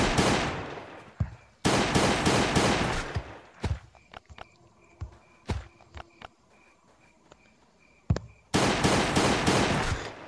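Gunfire in the video game Last Day on Earth: Survival, with a Glock pistol in play: loud bursts of rapid shots in clusters, separated by scattered single sharp cracks and quieter game sounds.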